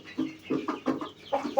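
Chickens cluck close by in a quick series of short, bursty calls, about six or seven in under two seconds, with no talk over them.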